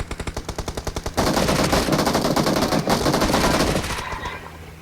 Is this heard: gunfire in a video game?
yes